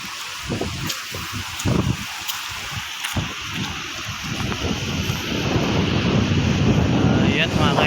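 Seaside wind buffets the microphone while surf washes and builds steadily along the shore, growing louder and denser toward the end. Brief voices or knocks are faintly mixed in.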